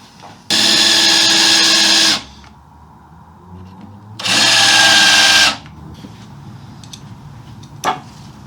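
A power drill boring holes in a cedar slab for a coffee table: two loud sustained whining bursts of about two seconds each, close up, with quiet handling noises and a sharp tap between.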